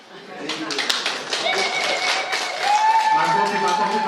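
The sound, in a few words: audience applause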